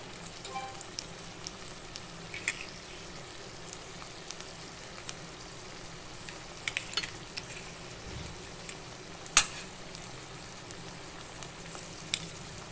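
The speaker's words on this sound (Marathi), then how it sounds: "आता हे पुन्हा एकदा आपण असं परतून घेणार आहे." Potatoes coated in green masala with fresh cream sautéing in a pan, a soft steady sizzle with light scattered crackles and an occasional sharper clink, close and fairly quiet, no voices.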